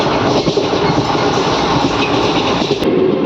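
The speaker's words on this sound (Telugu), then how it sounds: "మన ట్రైన్ కేవలం 10 నిమిషాల ఆలస్యంగా నడుస్తుంది అంతే" The Guntur–Vikarabad Palnadu SF Express runs at speed, a loud, steady roar of wheels and carriages with faint rhythmic clatter, heard from on board.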